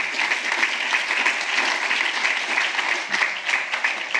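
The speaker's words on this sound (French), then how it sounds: "Je vous invite à les applaudir, s'il vous plaît" Audience applause at the opening session of the FALAH 2025 event, a steady, dense wash of many hands clapping for the full stretch, fairly loud and even, with no talk over it.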